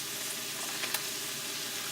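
Browned ground beef and chorizo sizzle steadily in a pan with taco seasoning, a soft continuous frying hiss at close range with a faint stir or clink near the middle.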